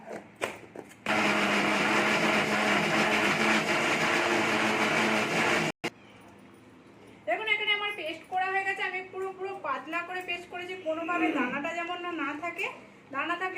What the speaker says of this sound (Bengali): এটাকে এবার আমি পিষে নিচ্ছি এটা কিন্তু আমি জল দিচ্ছি না জল না দিয়ে আমি পিষছি